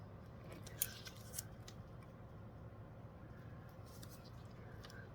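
Scissors snip through a paper model piece, a few faint, crisp cuts standing out against a quiet room hum with no talking.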